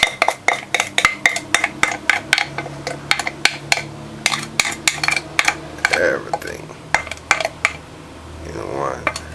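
A butter and sugar mixture is worked into a flour mix in a bowl, a rhythmic series of sharp clinks and scrapes of a utensil against the bowl, close and fairly loud, with brief softer pauses.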